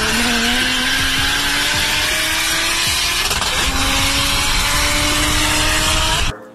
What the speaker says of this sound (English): It is a 3-liter inline six twin turbo.